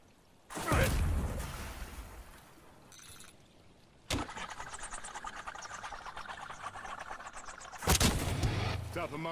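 A spawn tube fired in the Black Ops 7 video game, heard as a loud launch blast, a whooshing stretch of gameplay noise and a second heavy boom near the end.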